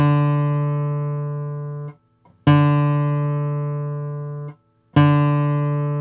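Thumb rest strokes on the fourth string of a guitar: three single plucked notes, each ringing and slowly decaying for about two seconds before being damped, with short silences between and no talking.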